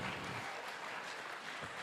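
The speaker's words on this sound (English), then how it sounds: "All right, Masterton, give him a round of applause again." Crowd applause at a cycle challenge during a sheep-shearing festival event, a dense even wash of clapping from many hands, fairly faint and distant, continuous without pauses.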